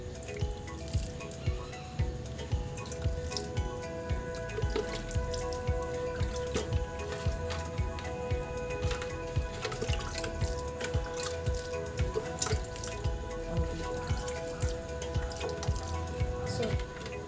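Water drips and splashes onto charcoal being wetted for potting orchids, a continuous run of close, small wet patters and squishes with no talking over it.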